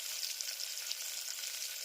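Spice tempering sizzling in hot oil for a bitter gourd curry, a steady close crackling fry with fine popping throughout.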